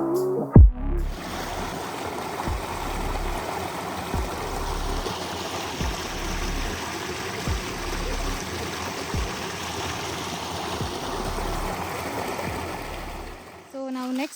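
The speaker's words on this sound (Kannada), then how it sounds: "ಯಾವಾಗಲೂ ಸಮ್ಮರ್ ಆದರೂ ಕೂಡ ನೀರು ಬೀಳ್ತಿರುತ್ತೆ" Water dripping and falling from rock inside Akalagavi cave, a steady wet splashing and trickling wash that runs continuously at moderate level with scattered louder drops, echoing in the enclosed space.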